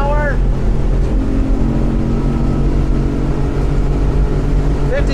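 Edge Marine 23'7" boat with a Yamaha 250 outboard running at speed, a loud, steady engine drone with rushing water and wind, continuous and close, with brief whistling tones at the start and end.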